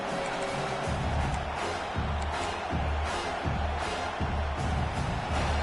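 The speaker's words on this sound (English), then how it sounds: "This crowd going to try to make life miserable for these guys." Loud stadium crowd roar in the NCAA 26 college football video game, South Carolina vs Georgia, a dense continuous wall of noise with rhythmic low chanting pulses throughout.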